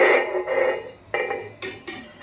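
Metal lid set onto a pan resting on a stand over hot water on a gas stove, a few light clinks and scrapes of metal on metal in quick succession, close by.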